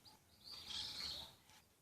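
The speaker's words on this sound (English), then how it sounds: "Reaping coconut in the dark, that bird, that huge bird. You hear the sounds." At night, a large bird in a coconut tree gives a faint, high, chirping call that swells briefly and then fades, heard at a distance in a quiet setting.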